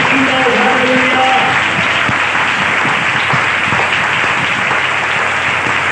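A church congregation claps loudly and steadily throughout, dense applause filling the room while a voice briefly speaks over it at the start.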